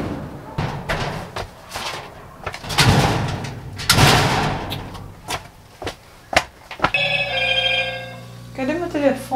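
A telephone rings with a repeated tonal electronic chime near the end, preceded by loud thumps, bangs and door-like knocks.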